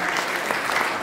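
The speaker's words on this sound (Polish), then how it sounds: "Wielkie brawa." Loud, dense audience applause at a village culture centre event, a continuous even patter of many hands clapping with no gaps across the short stretch.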